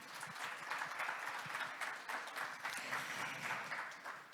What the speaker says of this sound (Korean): 좋은 강연 전해주신 반기문 사무총장님께 여러분 다시 한번 큰 박수를 부탁드리겠습니다